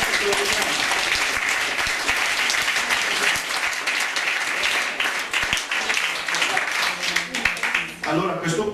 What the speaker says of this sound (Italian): un applauso per il fantastico